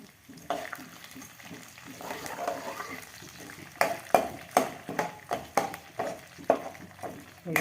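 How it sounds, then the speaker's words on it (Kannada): Pepper, cumin, mustard seeds, curry leaves and chana dal frying over a low flame for malnad-style uppittu, with a soft steady sizzle that turns into a run of sharp, rhythmic stirring scrapes and pops in the second half, close by. "ಮೆಣಸು, ಜೀರಿಗೆ, ಸಾಸಿವೆ, ಕರಿಬೇವಿನ ಸೊಪ್ಪು ಹಾಗೂ ಕಡಲೆಬೇಳೆ ಇದೆಲ್ಲವನ್ನು ಹಾಕಿಕೊಂಡು ಸಣ್ಣ ಉರಿಯಲ್ಲಿ ಬೇಯಿಸಿಕೊಳ್ಳಿ"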